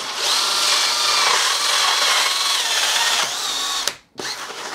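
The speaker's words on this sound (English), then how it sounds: "So we'll drill all the way through." A power drill with a hole saw whines steadily as it bores through foam, then stops abruptly and briefly restarts near the end.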